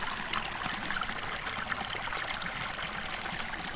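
Stream water pours steadily over Court Weir on a waterway walk, a continuous broad rushing and trickling wash that holds close and even throughout, with no voices.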